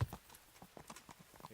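Horse hooves clip-clop in a quick, uneven rhythm of light, close taps with no talking, in the video game Kingdom Come: Deliverance.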